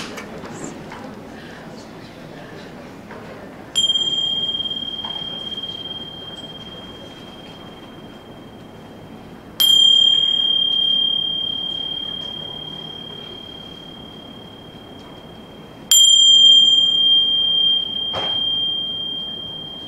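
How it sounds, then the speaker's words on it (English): A mindfulness bell is struck three times, each strike a clear, bright ring that sustains and slowly decays, spaced several seconds apart over a quiet room with faint background noise. "I want to take one mindful moment with three bells"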